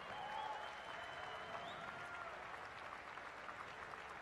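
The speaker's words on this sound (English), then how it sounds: "let's give a round of applause for all these unbelievable legends on stage" Crowd applause at a strongman competition honoring legends on stage, a quiet, distant, even roar of many clapping hands blended with a faint tonal whine, steady throughout.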